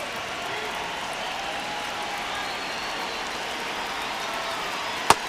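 A stadium crowd at Dodger Stadium in a baseball video game simulation roars as a steady, even wash of cheering and applause, with one sharp click near the end.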